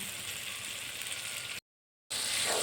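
Cauliflower roast masala sizzles and fries steadily in oil, a soft even hiss with a brief silent gap, no voices.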